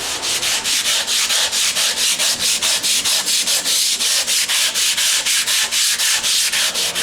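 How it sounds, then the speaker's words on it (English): A wooden block with sandpaper nailed to it is rubbed back and forth over carving stone in quick, steady strokes, a rhythmic gritty rasp repeating about four times a second, close and loud with no talking. "That's just a block cut out of wood with some sandpaper nailed onto it."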